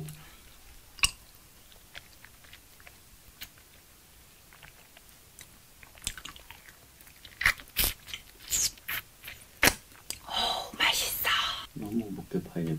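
Korean TikTok fruit jelly being bitten and chewed up close, with wet crunchy mastication bursts growing denser toward the end, alongside soft whispering.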